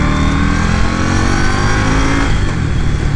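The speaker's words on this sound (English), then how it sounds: "this bike, it's a liquid cooled engine. This bike wants to be revved out really high." A liquid-cooled 2022 Indian Scout Rogue motorcycle engine revs hard and steady at close range, a loud continuous roar with no talking.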